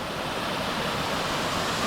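Water pours over Rocky Creek Falls in Sherwood Nature Reserve, NSW, as a loud, steady, continuous rush with no voices.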